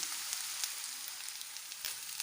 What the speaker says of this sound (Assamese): 5-6 মিনিট সময় এইখিনি ভাজি থাকিম।